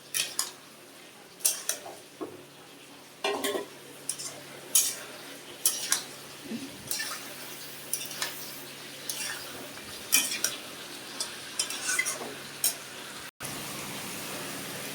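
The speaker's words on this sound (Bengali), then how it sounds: "বড়ি আলু ফুলকপি আমি সব একসঙ্গে দিয়ে দিলাম একসঙ্গে কষাবো" Bori, potato and cauliflower sauté together in a pan under a quiet steady sizzle, as a spoon scrapes and clinks against the metal in regular strokes throughout, close by and without talking.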